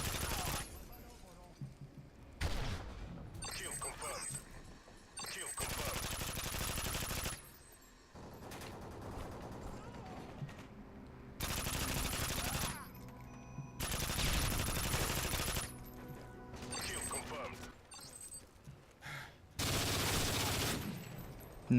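Sustained bursts of L86 LSW light machine gun fire in Modern Warfare 3, loud and close, coming in several long volleys separated by short pauses with quieter game noise between them.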